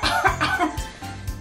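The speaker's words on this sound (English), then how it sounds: "when we sneeze and go, achoo, and when we cough and go," A person coughs several times in quick succession, close and fairly loud, each cough a short sharp burst with brief gaps between.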